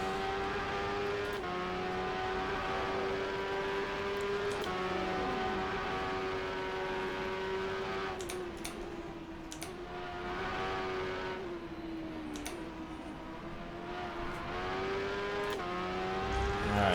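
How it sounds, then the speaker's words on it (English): Race car in rFactor 2 at Suzuka, engine droning steadily and loudly, then dropping quickly through gears from fifth to first for a hairpin, pitch stepping down with brief sharp blips before revving on. "Love downshifting for that hairpin. Go from 5th to 1st in a couple of seconds."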